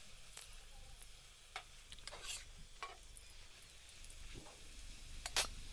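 Potato-stuffed paratha fries quietly in a pan, a faint steady sizzle broken by a few sharp ticks and spatula scrapes, with no talk.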